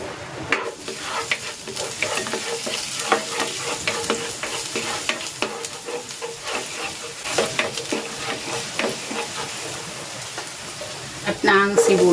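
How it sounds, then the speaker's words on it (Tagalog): Garlic sautéing in a hot pan for tofu and cashew dish, a steady close sizzle with repeated stirring scrapes throughout, no talk over it. "Magigisa na ako ng bawang"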